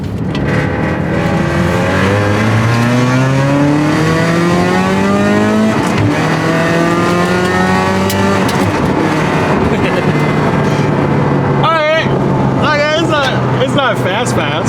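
Toyota GT86 with individual throttle bodies driven on a race track: loud engine revving and rising through the gears, repeated pitch sweeps with shifts, close and continuous under cabin noise.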